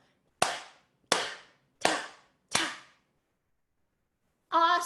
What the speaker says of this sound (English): You just clap it 4 times.